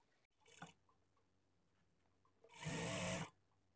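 A sewing machine stitches the lining of a blouse in a quiet room: a faint, short whir early on, then a louder, close burst of stitching lasting under a second.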